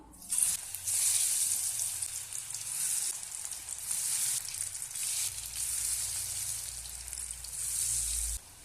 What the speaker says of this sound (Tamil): நம்ம ஒவ்வொரு காலிஃப்ளவராக எடுத்து எண்ணெயில் சேர்த்துக்குவோம்